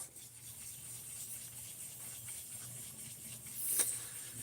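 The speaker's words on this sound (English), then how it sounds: "I need to stop and sand the opposite direction to get rid of some of those lines" An S90V steel blade on a Benchmade Mini Bedlam knife is hand sanded with soft, faint rubbing strokes that keep a gentle back-and-forth rhythm, plus one brief brighter scrape near the end.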